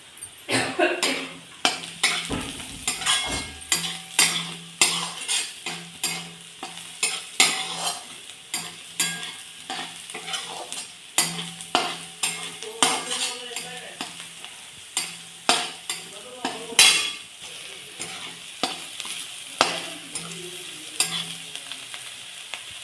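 Chopped chillies and onions frying and sizzling in a pan while being stirred, with repeated scraping and clinking of a utensil against the pan in an irregular rhythm, close and fairly loud, with no talking.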